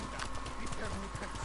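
Horse hooves clip-clop steadily in Ghost of Tsushima, a rapid, even trotting rhythm running through the whole moment, with a voice talking over the top.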